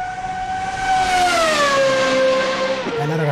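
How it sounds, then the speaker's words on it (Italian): A loud, close tonal squeal from a Formula Beta 2008 (GP2-style) race car's tyres skidding on corner exit in a racing sim, the pitch sliding steadily downward for about three seconds before cutting off. "Anche qui, sgommatona in uscita fantastica."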